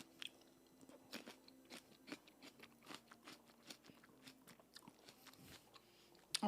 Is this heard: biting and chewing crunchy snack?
yes